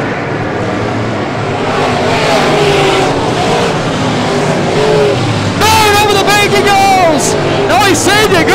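Pro late model race cars roar around a dirt speedway, engines droning loudly and sweeping in pitch as cars pass close, with a race announcer talking over the noise throughout.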